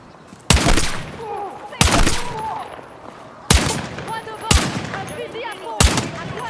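Gunfire in the video game Battlefield 6 campaign: five sharp, loud shots spaced about a second apart, each followed by a ringing tail and debris, with faint game effects between them.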